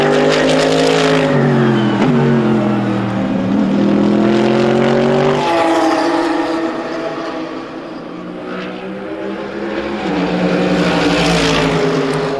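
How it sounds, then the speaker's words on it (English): A Lotus race car competes in the GTX class of a GT Cup race at Balaton Park, its engine roaring loud and close with rising and falling revs through gear changes, easing briefly before building again. "the local driver Gábor TIM driving the Lotus in the GTX class"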